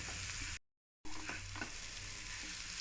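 A dry stir-fry of drumsticks with crushed peanuts being mixed in a pan, steady bright sizzle with soft spatula scrapes, close up, briefly cut to silence partway through, no voices.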